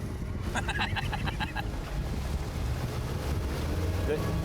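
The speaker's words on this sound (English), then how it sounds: "Good oceanside bonefish wind right here." Strong wind buffets the microphone in a constant low roar over open ocean water off Islamorada, with a brief cluster of faint high chirps early on.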